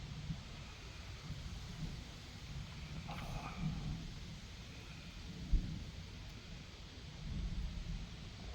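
A thunderstorm during a tornado watch brings steady rain and wind with a low rumble of thunder rolling through, moderately distant, plus a sharp knock midway.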